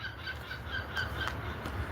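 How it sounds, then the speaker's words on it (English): A seagull gives a run of repeated harsh squawks at a steady rhythm, moderately close, over a constant background hiss. "He doing that live to warn other Seagulls to stay away."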